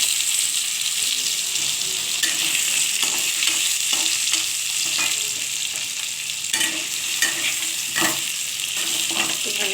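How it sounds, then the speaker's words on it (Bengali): Potatoes frying in oil left over from frying fish, a constant crackling sizzle with occasional stirring scrapes, close and unbroken for the whole stretch. "এই মাছের তেলেতেই আমি একটুখানি আলুটা ভেজে নিচ্ছি"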